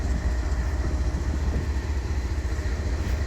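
Heavy freight train with 8,800 horsepower of locomotives on the head end, a deep, steady diesel rumble and grinding as it pulls out of a siding, close and fairly loud with no talk.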